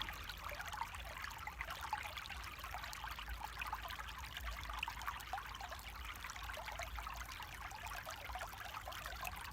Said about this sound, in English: That sound of water rippling.